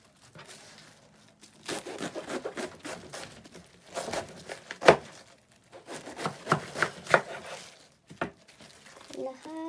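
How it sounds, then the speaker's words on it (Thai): Vegetables such as spring onion, large onion and carrot being cut for Korean kimchi in a home kitchen, with irregular bursts of knife chopping and crinkly handling noises, someone talking throughout. "ตอนนี้เราก็จะมาหั่นผักแล้วก็แช่น้ำเกลือไว้นะคะ"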